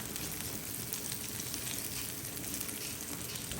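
Venison pieces sizzle loudly and continuously in a crooked, sticking pan, a dense, even frying hiss close up with no talk over it.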